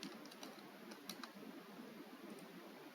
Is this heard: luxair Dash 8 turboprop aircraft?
no